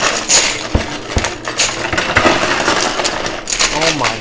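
Coins cascade in a steady metallic clatter from a high limit coin pusher arcade machine, loud and close, with dense jingling and scattered clinks throughout while a person talks over it.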